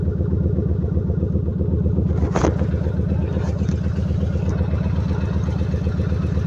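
A Yamaha XV 1600 Road Star motorcycle engine idles with a steady, throaty low pulse, loud and close, with a brief clack partway through.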